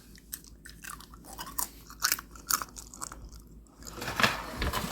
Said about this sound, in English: Dehydrated squash that I did yesterday. You can hear them, they're pretty crunchy.